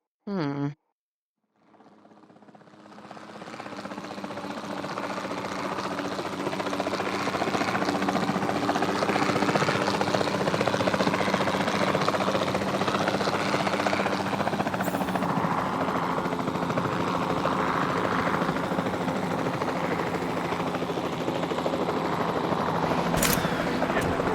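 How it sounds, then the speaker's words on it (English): A capture team helicopter in Jurassic World Evolution 2 flies steadily after a brief opening, its rotor and engine drone loud and continuous for over twenty seconds, with faint game effects mixed in. "Then the sensible thing is to take a capture team helicopter. You can trank it from the air."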